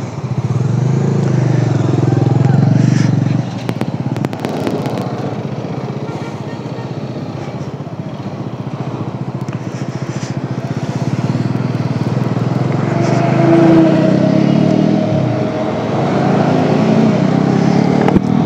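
Motorcycle ride on the road toward Doodhpathri, a steady close engine drone with wind buffeting running throughout, the tone shifting slightly as the bike moves, with no talk over it.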